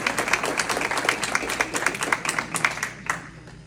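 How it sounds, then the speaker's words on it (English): An audience at an American Legion law and order awards night claps for an honoree, a fairly sparse spread of distinct hand claps that thins out and stops near the end. "Let's give Chris a round of applause."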